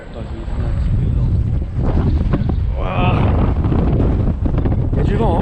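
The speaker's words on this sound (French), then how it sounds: "Il y a du vent, hein." Wind buffets the microphone in continuous loud gusts at an amusement park near water, with scattered voices and splashing briefly rising through the rumble.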